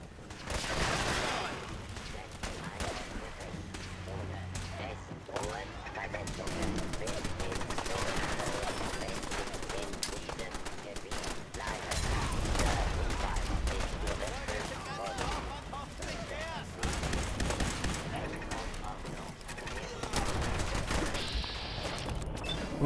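Sustained gunfire from Fallout 4 combat, dense bursts and volleys running almost continuously at steady loudness, with a voice talking over parts of it.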